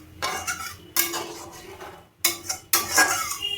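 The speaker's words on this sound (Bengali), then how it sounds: "এবার আমি মিক্সিং জার ধোয়া জল দিয়ে দেবো। আমি ভালো করে নাড়িয়ে নেব।" A spoon stirs rui fish curry in a metal pan, producing loud, close scraping and clanking bursts separated by brief pauses.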